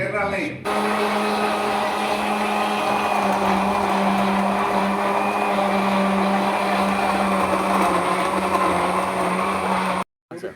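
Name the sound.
grinder making garlic and ginger paste with water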